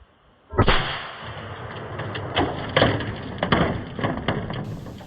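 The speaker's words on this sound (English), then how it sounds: "So this is Remington buckshot, just for those who are wondering. Been shooting it out of this, again, Stevens shotgun." A Stevens shotgun fires Remington buckshot at a riot shield: one sudden loud blast outdoors, followed by a long rumbling echo and decaying reverberation, with no voices.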